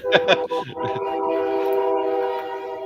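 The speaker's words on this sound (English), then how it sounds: "is that a train? It is a train" A passing train sounds its horn in a long, sustained, chord-like blast after a few short speech sounds, fairly loud and steady throughout.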